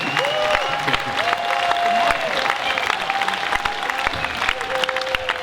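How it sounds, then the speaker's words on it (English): An audience at an Australian network marketing event breaks into loud applause and some cheering, steady clapping throughout with music playing underneath and an announcer's voice over it. "give this man a huge round of applause to hear his inspiring story"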